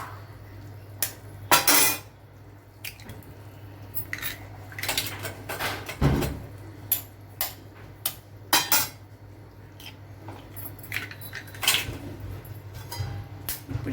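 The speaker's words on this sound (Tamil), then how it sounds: "நான் இதில் சிம்மில் வச்சுட்டு இந்த முட்டையை உடச்சி ஊற்றுறேன்." Sharp clinks and taps of eggs cracked against a pot and metal utensils knocking, as eggs are broken into a simmering Tamil egg drop curry, scattered clatters over a low steady hum, close, with no talking.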